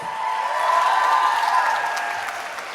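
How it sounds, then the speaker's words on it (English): Crowd applause at a student entertainment show, a steady wash of clapping that swells and then slowly fades, with a sustained tonal hum or whistle carrying over it. "a big round of applause for yourselves."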